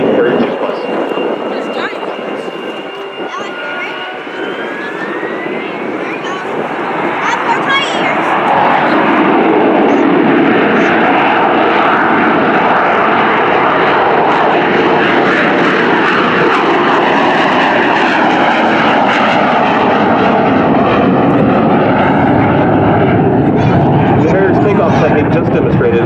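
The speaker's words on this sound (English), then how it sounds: "the pilot is positioning his aircraft for short takeoff" A USMC AV-8B Harrier II Plus jet at an airshow powers up for a short takeoff, its engine roar building from a steady whine into a loud, continuous blast that holds through the end, with a commentator talking over it.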